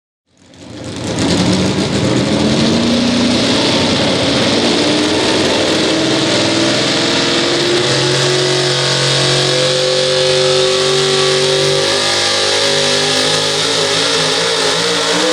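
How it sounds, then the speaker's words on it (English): A limited pro stock truck roars at a truck pull in Monticello, Iowa, its engine bursting in loud and holding a sustained, climbing high-revving howl for over ten seconds, close and dominant. "So that's going to be our last truck there in the limited pro stocks."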